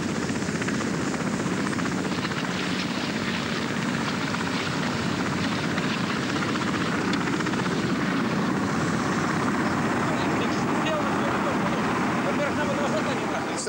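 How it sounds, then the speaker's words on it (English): Soviet helicopters hover over the Chernobyl reactor, dropping bags of sand onto it. Their engines and rotors give a continuous, heavy drone that fills the whole stretch without letup. "Soviet television showed these pictures of how the helicopters dropped bags of sand onto the reactor."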